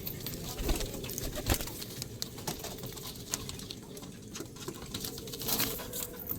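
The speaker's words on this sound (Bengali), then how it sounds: "দেখো দুটোই পাট্টা পায়রা কিন্তু খেতে শিখে গেছে" Pattha pigeons, a pair of young birds being offered for sale, shuffle and flutter close by with soft patter and faint cooing, steady and continuous throughout.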